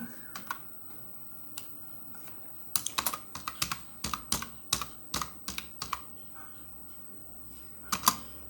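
Someone types on a computer keyboard in bursts of quick, crisp key clicks, with pauses between groups and a faint quiet room background.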